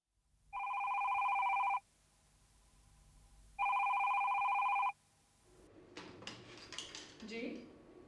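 A landline telephone rings twice in clear, evenly spaced electronic bursts in a quiet room, followed by soft handling clatter as the receiver is picked up.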